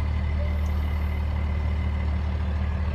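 A Freightliner M2 hooklift roll-off truck sits rumbling with a steady low diesel drone that dominates, while faint reversing beeps and a brief air-brake hiss sit lightly on top, heard up close with no talking.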